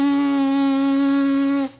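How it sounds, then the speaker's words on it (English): A sustained French horn embouchure lip buzz, a steady pitched tone with many harmonics held for almost two seconds, produced by blowing a full airstream through the center of the lips, then stopping abruptly. "Direct a full airstream through the center of your lips, and you should create a buzzing sound."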